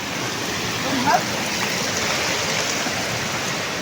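Water flows steadily from a rural village water supply line in the Philippine countryside, a continuous broadband rush with no pauses, fairly close and alone without any talk.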